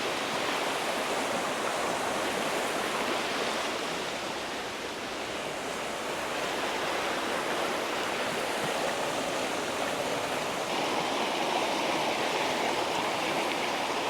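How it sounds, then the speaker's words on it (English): A fast-flowing mountain stream in Lauterbrunnen, Switzerland, rushes in a steady, dense broadband roar that stays close and loud throughout, with no voices over the churning water. "So I just found another stream."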